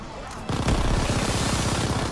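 Rapid automatic gunfire in Call of Duty Nazi Zombies erupts after a brief quiet lead-in, a dense loud burst of repeated shots continuing steadily to the end.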